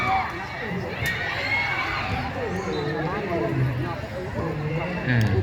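Crowd cheering and children shouting at a 12-year-old youth football match for third place, a steady lively roar of young voices close by with a commentator talking over it throughout.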